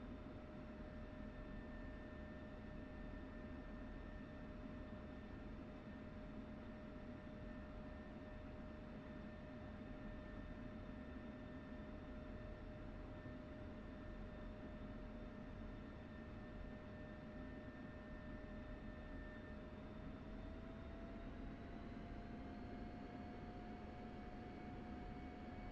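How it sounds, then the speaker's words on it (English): Steady, continuous jet engine whine with sustained tonal hum from a fighter jet taxiing in a flight simulator, holding constant with a slight rise in pitch near the end, alone without talk. "Alright, flight taxi sequence."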